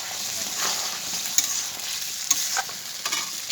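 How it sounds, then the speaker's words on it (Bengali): Spice masala is sautéed in a pan in a short burst. It gives a close, steady sizzle with a few sharp scraping clinks of the stirring spoon and no speech. "এই যে কষানো হচ্ছে"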